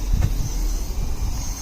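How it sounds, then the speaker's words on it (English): WPL C24 radio-controlled truck with a tube jeep chassis and four-wheel steering driving around, a faint steady electric motor whir with light rolling noise, close by and alone. "My truck was driving around"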